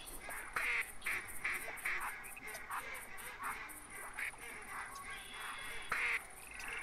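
A flock of ducks quack repeatedly in theHunter 2017 hunting game, with rhythmic, nasal calls overlapping at moderate distance and occasional louder bursts, over a faint high steady tone.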